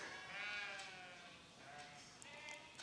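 Goats near a rural retreat property in Badlapur, Mumbai bleat faintly in the distance, a few wavering calls rising and falling against a quiet outdoor background.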